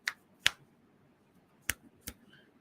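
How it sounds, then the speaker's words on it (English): Finger snaps attempted while wearing a glove, four sharp, muffled clicks spaced unevenly in a quiet room, close and fairly faint. "trying to snap my fingers with this stupid glove on"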